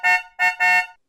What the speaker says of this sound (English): Snorky was an elephant wearing pink sunglasses that sweetly communicates through honking noises